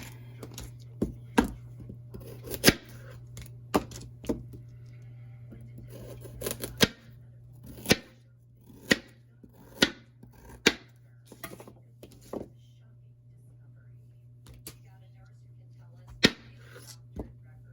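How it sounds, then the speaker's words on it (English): A knife chops a carrot on a cutting board in sharp, crisp knocks, single and in quick bursts, fairly close over a steady low hum, with irregular pauses between strokes. "I'm gonna go ahead and chop up this carrot"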